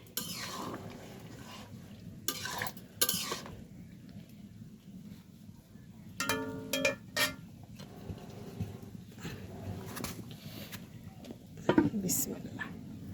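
Beef cooking in a pot with water is stirred. Intermittent scraping and clanking bursts of a utensil against the pot stand out from a quiet background, with a person talking between them.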